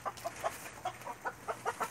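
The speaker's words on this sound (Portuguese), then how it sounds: "Olha aí as galinhas." Chickens in a bamboo coop cluck in short, repeated bursts, fairly close and steady, several birds calling over a quiet farmyard background.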